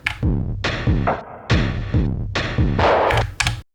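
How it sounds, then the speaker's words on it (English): A punchy drum loop on a Torso S-4 sampler with booming kicks and crisp hi-hats repeats in a steady groove, with short gaps between bars. "on the first one, it's just a drum loop."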